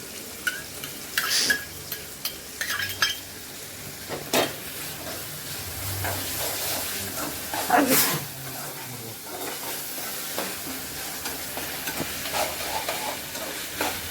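Ginger garlic paste sizzles and fries in a pan for pepper chicken, a steady hiss with intermittent stirring scrapes and clatters throughout, moderately close and without talk.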